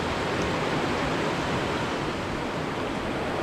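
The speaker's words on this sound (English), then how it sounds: "The waves just start coming over." Wild river waves wash over and around a small fishing boat in a steady, loud, unbroken rush of churning water that fills the whole stretch, with no voices.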